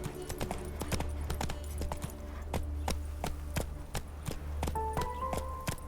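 Horse hooves clip-clop at a steady gallop in The Witcher 3, a quick even rhythm of crisp hoofbeats over a low rumble of game ambience, with a brief tonal game sound near the end.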